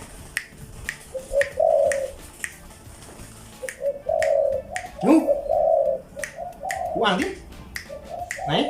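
A dove coos in soft, low repeated calls amid sharp snapping clicks, with people talking nearby.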